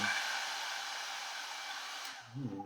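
An electric hair dryer blows with a steady loud whoosh, cutting off near the end, followed by a brief voice.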